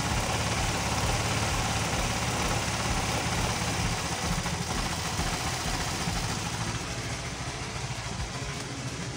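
An automatic motor scooter engine idles steadily, a continuous close rumble holding an even level with no talk over it.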